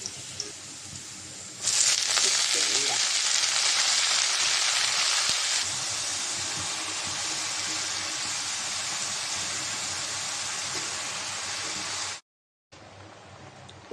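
Onion and chilli fry in a pan with water spinach being added, giving a steady close hiss that swells loudly after a moment, settles to a lower sizzle, then cuts out briefly near the end before resuming.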